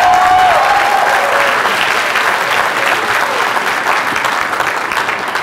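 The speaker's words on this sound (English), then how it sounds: "so I want to applaud you" Applause fills a commencement ceremony hall, loud and steady clapping from a large audience with faint crowd noise beneath, holding nearly constant throughout.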